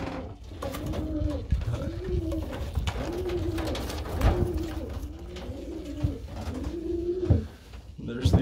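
Pigeons coo in repeated soft, rounded phrases close by, one call after another in a steady rhythm, with faint handling noises in the background.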